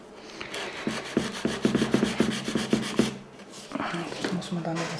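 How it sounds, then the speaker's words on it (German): A nail file rasping along the sides of a square-shaped fingernail, a quick series of rhythmic back-and-forth scraping strokes, close and clear, with a pause and then a few more strokes. "Und jetzt feile ich mir die Seiten"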